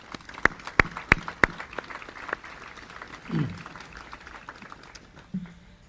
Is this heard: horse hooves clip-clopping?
no